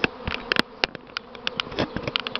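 A swarm of honey bees buzzes close by, loud and continuous, with bees passing near in repeated swells and sharp flybys and no talking.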